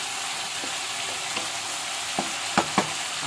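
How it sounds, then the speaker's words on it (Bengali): Potato and squash greens stir-fried with salt and turmeric in a pan, giving a steady close sizzle of frying with a few soft clinks and scrapes of stirring near the end. "লঙ্কা দিয়ে এই যে নুন হলুদ দিয়ে একটু নেড়ে চেড়ে ঢেকে দেবো।"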